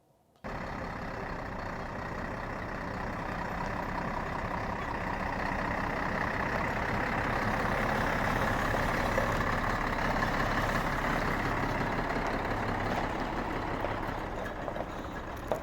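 A heavy truck engine, a driving-school tractor unit for category CE training, runs steadily at idle, a deep constant rumble that holds at the same level from start to finish, with no voices.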